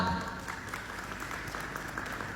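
Audience claps for a circus show, a quiet, steady patter of many hands heard from a distance.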